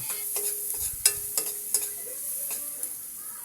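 Garlic and onion sautéing in a pan for a tuna (tulingan) dish, a steady close sizzle broken by a few sharp ticks and clinks of a utensil against the pan, with no talking.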